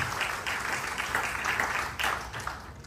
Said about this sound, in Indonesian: Beri tepuk tangan bagi Tuhan kita.